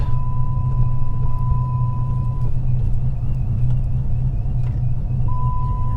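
A modified 2009 Dodge Challenger SRT8 with a supercharger starts and idles loudly up close, rumbling steadily with an uneven chop and a faint high blower whine riding above it.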